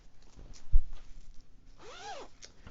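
A short, quick zip of a zipper being pulled near the end, after some faint rustling and a soft thump.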